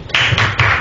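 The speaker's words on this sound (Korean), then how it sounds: "박수 한번 주시죠" A studio audience at a live television talk show claps briefly, three loud, close bursts of hands in quick succession with no talk over them.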